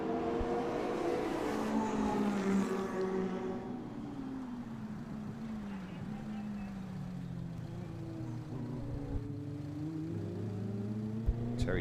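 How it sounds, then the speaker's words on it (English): A Van Diemen Formula Ford race car with a 2-litre Zetec engine drives past on a circuit, its engine note loud and near at first, then dropping and fading into the distance. "Terry Clark in the Van Diemen, 2-litre Zetec engine in that car"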